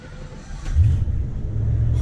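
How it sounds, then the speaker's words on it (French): A Rolls-Royce's big engine runs steadily, a deep low rumble that swells slightly partway through and holds, close and fairly loud with no talk over it. "On entend quand même qu'il y a un gros moteur."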